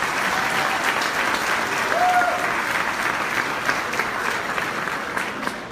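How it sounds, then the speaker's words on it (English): Steady applause from an audience at a Canadian community gathering fills the whole stretch, dense and even with no voices standing out. "Round of applause, please."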